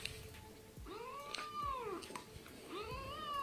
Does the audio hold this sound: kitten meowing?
yes